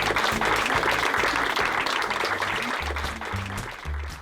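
Dense applause from an audience welcoming the founding members of an arts association, steady and full throughout with a low rhythmic musical pulse playing underneath.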